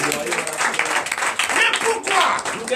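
A congregation claps and cheers in acclamation of Jesus at a Sunday worship service, loud close clapping mixed with shouting voices in uneven bursts.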